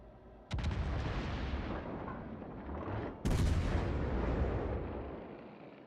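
Naval guns fire in a warship video game as two heavy, booming salvos about three seconds apart, each with a long rumbling decay, loud and close with no talk.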